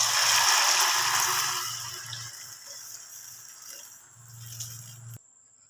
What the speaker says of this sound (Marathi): आता सगळा मसाला लाल झाल्यावरती त्यात पाणी सोडून द्यायचं